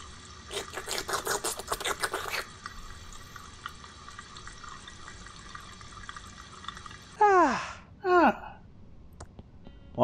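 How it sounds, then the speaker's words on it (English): A water fountain in the point-and-click adventure game Thimbleweed Park. Trickling water runs quietly in the background after a burst of chiming game sound, followed by two short bubbly gulping splashes near the end. "Use the water fountain."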